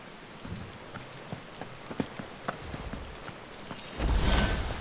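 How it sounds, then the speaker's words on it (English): Rain falls in a Final Fantasy 16 game scene, a soft steady patter under scattered sharp footstep-like clicks and a brief bright metallic ring, then swelling into a louder hissing downpour near the end. "How could you possibly fight Odin and have it not be in the rain"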